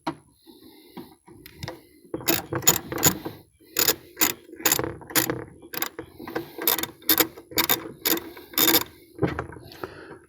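A ratchet wrench clicks through quick bursts of pawl ratcheting while loosening bolts on a DR trimmer mower, with repeated close, loud runs of sharp clicks separated by short pauses.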